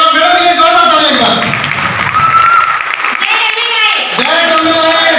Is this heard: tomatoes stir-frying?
no